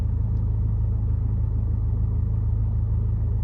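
Mercedes-Benz sedan idling in drive after oil pan repair, with a heavy, steady low engine rumble and strong vibration droning continuously from inside the car, no voices.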